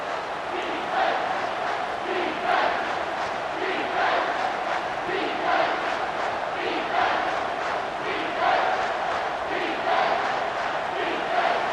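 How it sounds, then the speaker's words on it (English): A roaring stadium crowd in EA Sports College Football 25 swells in steady waves, loud and continuous throughout with rhythmic surges, like fans chanting and bellowing during a key third-down play. "3rd down, and this crowd is bringing down the house"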